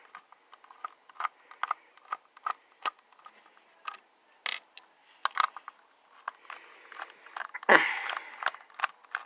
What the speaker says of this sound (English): there's also 2 more screws you have to unscrew